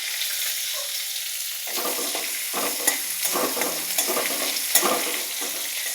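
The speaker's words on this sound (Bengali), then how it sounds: "ওই কড়াইতেই একটু তেল দিয়ে ফোড়নে শুকনো লঙ্কা, জিরা, কাঁচা লঙ্কা আর" Dried red chillies, cumin seeds, green chillies and garlic hit hot oil in a kadai for tempering, bursting into a loud, crackling sizzle after a quiet start that carries on steadily until the end.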